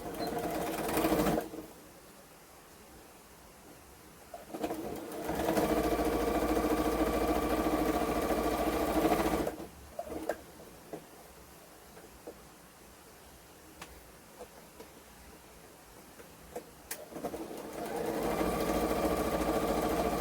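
A sewing machine stitches a doll's dress for a Chloe doll in a few separate bursts of steady mechanical whirring, with quiet pauses between runs.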